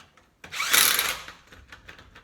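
An impact wrench driving a tire lug nut during a tire change, giving one loud, short whirring rattle that fades into lighter clicks and handling noise, close by and with no talk.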